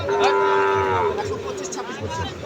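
A Sahiwal cow at a farm lets out one loud, drawn-out moo that fades into a lower, rougher tail, with faint background noise around it.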